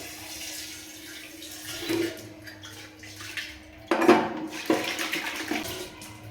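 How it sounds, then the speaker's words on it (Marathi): Water splashing and running as a brass vessel is rinsed clean after scrubbing, with a few louder splashes and light metallic clinks near the end. "पाण्याने वॉश करून घ्यायचं"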